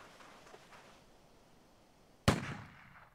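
A single sharp gunshot cracks out in the Storm Boy video game, sudden and loud after a quiet stretch, with a short decaying tail.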